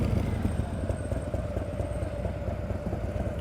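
A motorcycle engine idles steadily at low rpm during an advanced slow-speed riding practice session in California, a constant close rumble with no talk over it.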